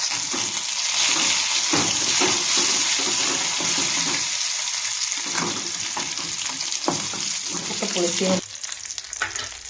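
Curry leaves dropped into hot oil with browned onions for a ripe mango pulissery, giving a loud, continuous crackling sizzle up close, with stirring clatter and a drop in intensity near the end.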